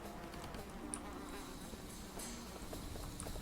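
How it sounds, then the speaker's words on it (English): Flies buzzing over meat in Mask of the Betrayer, a faint, steady insect drone that persists throughout under quiet game ambience. "I can hear the flies buzzing over this meat."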